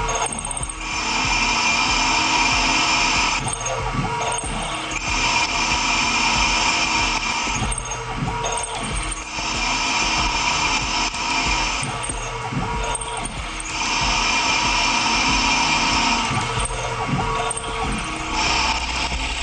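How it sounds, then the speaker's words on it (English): A CNC machine peck-drills with a titanium-coated high-speed steel bit turning at 900 RPM, making a steady loud grinding whir that dips briefly at regular intervals as the bit retracts, with no voices. "This is a high-speed drill bit with a titanium coating. Running at 900 RPM"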